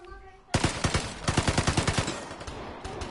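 A P90 submachine gun fires in the video game Vigor, shooting through walls: a loud, rapid burst of evenly spaced shots that starts abruptly after half a second, with a few scattered shots toward the end.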